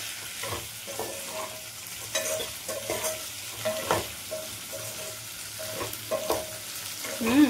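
Semolina (suji) balls being fried again and stirred in a pan, a steady close sizzle with repeated scraping strokes of a spoon against the pan throughout.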